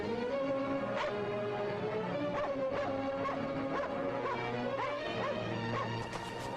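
A dog barks repeatedly in an old 1940s film soundtrack, with sharp yelps and barks spaced over lively orchestral music and clattering effects.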